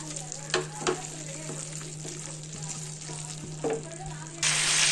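Mutton pieces stir-fried in a pan for mutton sukka, a low steady sizzle with a few louder stirring scrapes, a constant electrical hum underneath and a sudden burst of bright hiss near the end.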